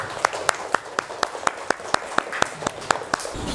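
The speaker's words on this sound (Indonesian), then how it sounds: "Kasih tepuk tangan untuk Ananda Fawaid." Audience applause for a child who has just recited a Quran surah, a dozen or so sharp, evenly spaced claps ringing out over soft background murmur, close and moderately loud.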